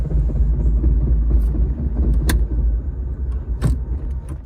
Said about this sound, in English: But when you try to put it in reverse, all that noise is just hideous.